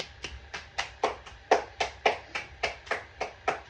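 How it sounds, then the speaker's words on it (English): A few people clapping together at a steady rhythm, about a dozen sharp claps, close by and without talk. "We gonna clap it up for me."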